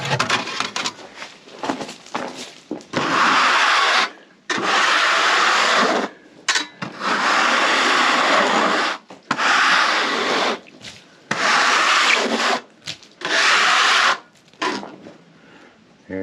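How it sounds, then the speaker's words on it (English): A hand scraper rasps across wood in a sawmill. It makes a series of long, loud scraping strokes, each lasting about one to two seconds and separated by short pauses, heard up close with no talk. "Get my scraper."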